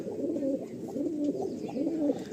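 Pigeons in a pigeon loft coo in three repeated rolling phrases, close and clear, over a soft background hum.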